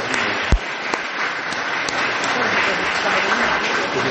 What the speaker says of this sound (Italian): io vorrei un applauso per questa